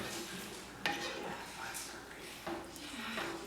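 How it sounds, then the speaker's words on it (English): A spoon stirring soup in a pot, with faint metallic clinks and scrapes against the pot, two sharper knocks, all quiet and partly under a person talking. "let's go ahead and mix the soup in just a little bit"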